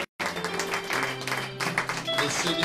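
A church congregation breaks into applause and acclamations, with dense overlapping clapping and scattered voices rising under it, loud and sustained throughout after a brief cut at the start.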